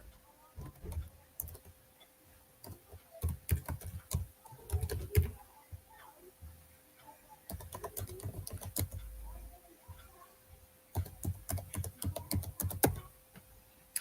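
Rapid bursts of keystrokes on a computer keyboard while entering text into a web login form, clattering in uneven runs with short pauses between them, close and fairly quiet, no voices.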